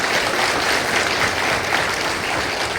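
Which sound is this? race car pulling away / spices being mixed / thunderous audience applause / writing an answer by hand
thunderous audience applause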